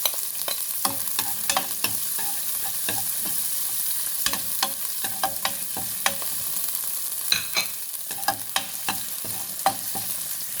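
Onions fry in a pan for pork rib kaldereta, a steady close sizzle of hot oil broken by the scrape and clack of a utensil stirring every second or so.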